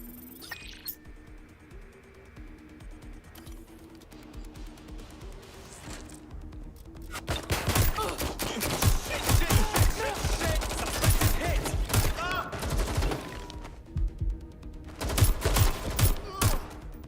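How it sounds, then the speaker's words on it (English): Gunfire in the video game Watch Dogs Legion: after a quieter stretch of low ambience, loud rapid bursts of shots and automatic fire break out and keep going, with a short lull before another close volley. "They're shooting at us!"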